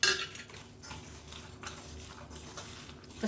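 Chickpeas being stirred with chili powder, turmeric and coriander powder in a metal pot, a spoon clinking and scraping steadily against the sides, close and moderately loud with no voices.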